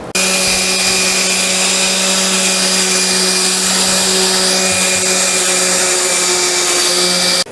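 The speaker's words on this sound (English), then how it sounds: "I'm rough sanding everything I can get to with my random orbit" A random orbit sander rough-sands a wooden Kennedy rocking chair by Carolina Rocker, giving a loud, steady motor whine with a constant pitch that runs unbroken for the whole stretch.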